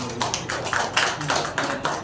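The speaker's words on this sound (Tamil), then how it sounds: "உங்கள் கைத்தட்டல் சத்தத்தோடு" Applause from the audience at a Tamil book launch ceremony: steady, moderately loud clapping from a group, with irregular claps and no talk.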